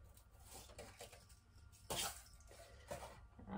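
Hoya compacta variegata roots rinsed under a running tap to wash off potting soil, heard as faint, intermittent splashing bursts of water close by.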